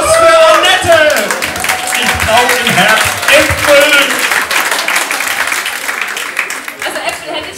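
Applause for Annette at a lively German stage event, crowd clapping mixed with shouts and a bit of laughter, loud and busy, with a voice speaking over it near the start before the clapping thins toward the end.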